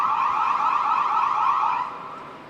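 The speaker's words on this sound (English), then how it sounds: "There's a police car just below me." A police car siren near Auckland Airport gives a loud, steady warbling wail close by, then eases slightly toward the end, with no talking.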